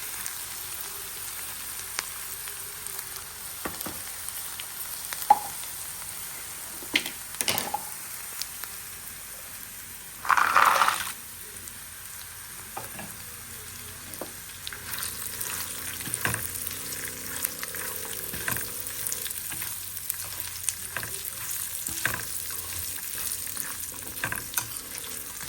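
Cashews fry lightly in hot oil with a soft, steady sizzle and crackle, punctuated by occasional stirring scrapes and one brief louder rustle, with no talking.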